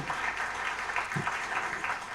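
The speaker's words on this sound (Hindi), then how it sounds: "एक बार जोरदार तालियां for all the wonderful musicians" An audience at a ghazal concert in New Jersey applauding the accompanying musicians, a dense, continuous clapping heard from within the crowd, fairly loud throughout.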